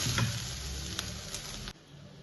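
Brief crackling sizzle from a hot pan as coconut and cumin are dry roasted, with a few scraping stir sounds, cutting off abruptly near the end.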